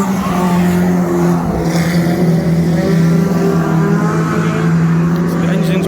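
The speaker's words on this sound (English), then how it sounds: "The engines are choking up with all the dust." Stock car engines roar and drone loudly around a dusty cement track at Cowdenbeath, Scotland, with a steady, slightly choked engine note, tire noise and crowd or commentary voices mixed in.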